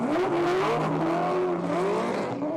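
A drift car at Wakefield Park holds a continuous high engine rev with wavering pitch and tyre squeal as it slides, heard from a distance with no talking.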